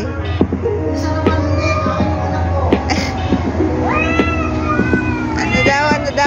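Two cats squabbling indoors, with repeated rising meows and drawn-out caterwauling wails over a steady low hum, loud and close, with a person's voice briefly audible in the background.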